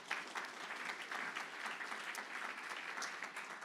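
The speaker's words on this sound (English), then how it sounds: "Let's give them a big round of applause." An audience at a lunch panel discussion gives a steady round of applause, many hands clapping evenly and fairly softly for the whole stretch.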